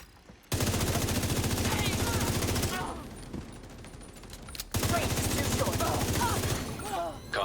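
An MG5 machine gun rattles in a video game, two long loud sustained bursts of rapid fire separated by a brief pause, close and dominant.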